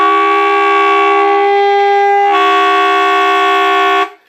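A saxophone multiphonic played with the high E key blares as a loud, harsh, sustained chord of stacked tones, shifting partway through and then cutting off abruptly.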